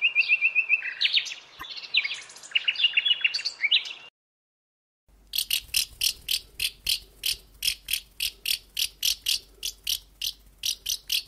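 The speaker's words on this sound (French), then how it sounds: "Le rossignol Philomèle." Common nightingale song: after a brief pause, a long run of rapid, evenly repeated high chirping notes rings out clearly, preceded by a busier burst of varied warbling phrases.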